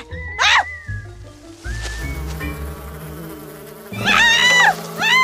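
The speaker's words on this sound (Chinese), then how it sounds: "有马蜂！" A wasp buzzes in a Chinese period-drama scene, a steady insect drone mixed under background music, with sharp shrieking voices breaking in near the end.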